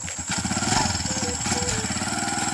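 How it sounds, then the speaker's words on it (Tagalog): Motorcycle engine at a roadside checkpoint, a steady mid-pitched drone with regular firing pulses held close and loud for a couple of seconds, with faint background noise. "Uy, may motor."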